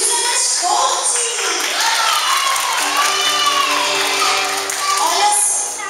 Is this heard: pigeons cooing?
no